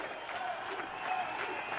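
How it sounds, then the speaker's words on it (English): A crowd at a tied 1980 CIS men's basketball game between Brandon and Lakehead roars and applauds steadily in a field house during a late timeout, a dense, loud wall of cheering. "You can hear the crowd just going wild"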